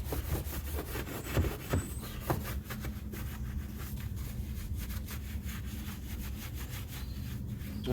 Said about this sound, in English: Just give them arches a real good scrub with that brush.